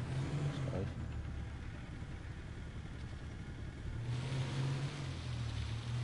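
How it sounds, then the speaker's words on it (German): A car engine in GTA 5 Online drones steadily at mid volume, swelling slightly toward the end, with a voice faintly mixed underneath. "ich wollte Gas geben"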